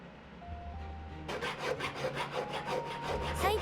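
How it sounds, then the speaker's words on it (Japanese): Metal file rasping over the bowl details of a forged, acid-cleaned silver spoon, a steady run of quick scraping strokes starting after a quiet moment, fairly close and alone. "細部をヤスリで整えて"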